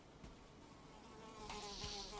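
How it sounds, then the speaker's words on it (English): A mosquito's thin, high buzz hovers close by in an Australian outdoor setting, faint but steady with a slight waver as it drifts, with no voices. "Yes, goodbye, Mr. Mosquito."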